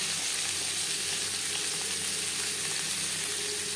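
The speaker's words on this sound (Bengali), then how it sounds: "হাই টু মিডিয়াম ফ্লেমে পটল ভেজে নেব" Pointed gourd frying over high to medium flame gives a soft, even sizzle and bubbling hiss that holds steady and fairly quiet throughout, with no talking.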